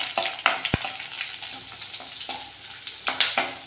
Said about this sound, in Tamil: நல்ல வெங்காயமும் பூண்டும் வதங்கிட்டுருக்கு